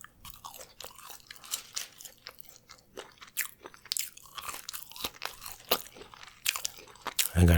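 Close, crisp crunching and chewing of the last few fries from a retro burger meal, irregular bites and soft mouth sounds over a quiet background with no talking.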